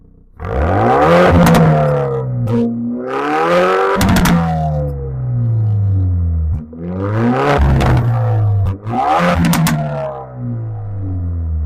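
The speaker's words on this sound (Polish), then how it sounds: "Wydech i30N nie brzmi. On dosłownie oferuje symfonię dźwięków, ryków i soczystych strzałów." Loud, close active exhaust of a Hyundai i30 N revving in four surging bursts, each rising then falling, with crackles and pops between throttle blips.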